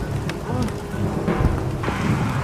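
Rain pours steadily with low rumbling thunder underneath, a dense wash of noise throughout.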